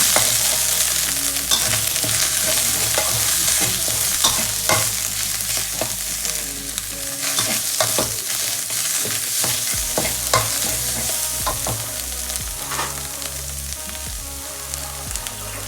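Steady sizzling and scraping as red curry paste is stir-fried in a wok with a little water added, with repeated utensil clinks against the pan throughout, no voices.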